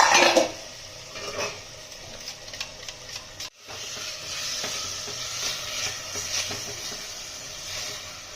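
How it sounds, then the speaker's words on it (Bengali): Jackfruit and potato go into a pan of frying spice masala for jackfruit biryani, bringing a sputtering sizzle and repeated scraping stirs of the spoon against the pan, close and continuous with a brief pause midway. "এঁচড়টা আর আলুটা দিয়ে দিলাম একসঙ্গে দিয়ে দেবো"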